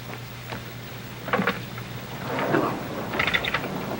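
Thunderstorm sound effect in a radio drama: rain hiss with low rumbling thunder swelling midway, a faint steady hum underneath, no voices.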